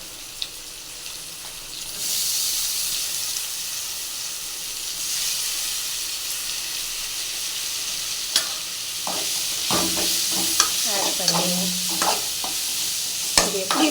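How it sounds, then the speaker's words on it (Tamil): Chopped onion and tomato tipped into a hot pan of frying paneer for roadside-style paneer fry: a bright steady hiss swells after a moment, then scraping spatula strokes and clatter stir through the sizzle near the end. "கட் பண்ணி வச்சுருக்க வெங்காய தக்காளியை ஆட் பண்ண போகிறேன்"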